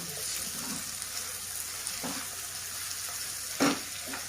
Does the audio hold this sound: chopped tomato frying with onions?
yes